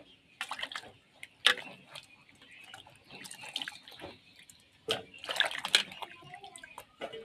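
Something is rinsed under running water in a home kitchen, giving irregular splashes and drips that swell in short bursts, close by and fairly quiet.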